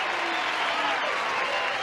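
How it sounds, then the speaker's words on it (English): A television game show studio audience applauds in a steady, continuous wash of clapping, heard from a distance and evenly sustained throughout, with no voices on top. "They're applauding your lousy poems, Gene."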